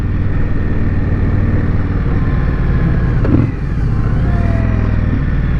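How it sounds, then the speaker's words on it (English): A 2019 Indian Scout Bobber motorcycle idles with a loud, deep, steady exhaust rumble close by, one brief swell midway. "it gives you a really a nice deep rumble."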